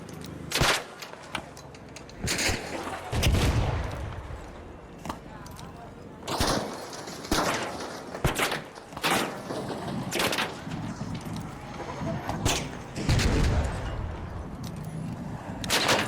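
Secret grenade explosions and gunfire against a Rocketeer in the video game ARC Raiders: a string of sharp bursts and a few deeper booming blasts scattered irregularly across the scene, fairly faint, mixed with some in-game noise and occasional talk.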